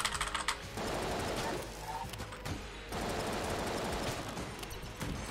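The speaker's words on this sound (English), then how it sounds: "reduce some of the clickety-clackety-ness in the keyboard" A clicky computer keyboard clatters in rapid, dense bursts of keystrokes with brief pauses, close and crisp, during a session of the game Enter the Gungeon.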